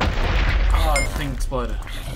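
Booming explosions in a Minecraft-style creeper attack game, a dense low rumble of blasts under excited overlapping voices.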